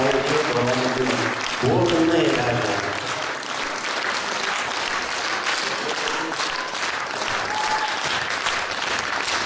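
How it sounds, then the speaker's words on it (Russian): Audience clapping at a spring concert, dense and continuous throughout, with a voice speaking over the first couple of seconds. "Аплодисменты еще раз, мои хорошие."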